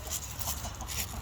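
Rooster on a small sheep farm clucking in a few short bursts, close and fairly faint over a steady low background hum, with no talking.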